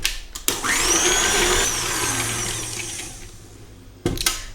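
An electric mixer whisking orange syrup cake batter, a loud steady whir that slowly fades, bracketed by short clattering knocks at the start and end.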